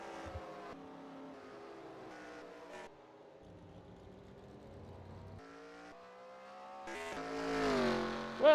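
Race cars in an oval-track racing video game at Chicagoland drone with shifting engine tones, fading and swelling, and a sharp roar rises at the end, all fairly faint.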